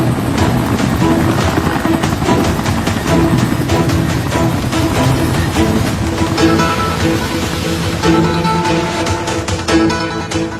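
Helicopter flying over open water near a floating wooden trawler, a loud steady rotor and engine roar running throughout beneath a dense swell of background score.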